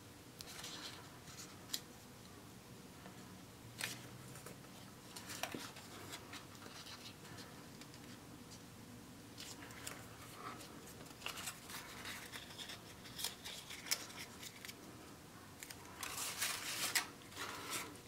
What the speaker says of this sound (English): So I'm going to go ahead and get all my paper folded